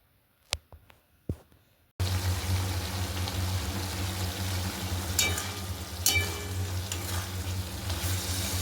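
Potatoes with poppy seeds fry in a pan, first a few sharp taps and clinks, then a sudden steady hiss of sizzling with scraping stirs and occasional crackling bursts, close and moderately loud.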